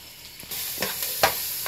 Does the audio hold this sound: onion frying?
yes